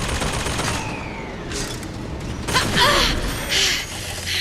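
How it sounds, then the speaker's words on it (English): Turret gunfire in Bioshock Infinite: Burial at Sea, loud mechanical bursts and clanks against steady game noise, with sharper volleys in the second half. "Fucking turret."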